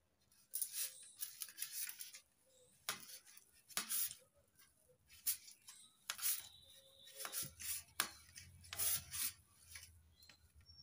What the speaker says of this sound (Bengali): এবার এই হাতের এখান দিয়ে ভালো করে মেখে নেব।